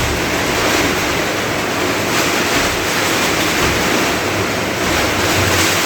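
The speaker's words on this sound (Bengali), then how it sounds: "বিশাল ঝড় তুফান শুরু হয়েছে" A strong wind storm roars as a continuous, loud, broadband rush with buffeting gusts against the microphone, filling the whole stretch with no voices.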